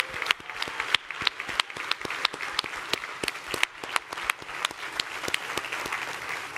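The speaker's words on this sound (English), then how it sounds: "Please give these ladies a warm round of applause." An audience at a BWT Alpine F1 Team launch conference gives a round of applause for a group of young women, steady close applause with sharp individual claps throughout and no speech.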